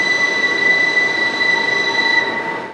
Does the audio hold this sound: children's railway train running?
yes